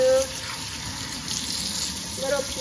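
Irish moss rinsed and scrubbed between palms under a running tap, water splashing steadily at close range with brief rubbing and squelching sounds in the stream.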